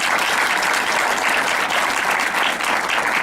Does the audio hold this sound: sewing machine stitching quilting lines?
no